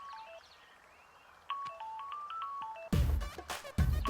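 A bright electronic ringtone plays a looping melody of short beeping tones, followed by louder bursts of sound near the end.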